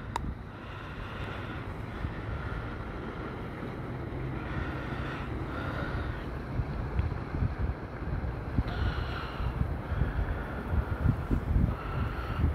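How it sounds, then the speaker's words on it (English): Wind blows strongly outdoors near the water during a turtle rescue, a steady, loud buffeting roar across the microphone that swells in gusts and never lets up. No one speaks. "Wind's picking up a little bit."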